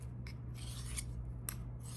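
A steel tool blade is pushed across a flat sharpening stone in short, raspy scraping strokes, several bursts in quick succession over a steady low hum, close and fairly quiet.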